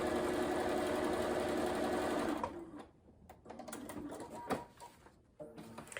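A sewing machine stitches quilt rows together in a steady, close run of rapid mechanical whirring that stops partway through, followed by faint handling noises and quiet shuffling.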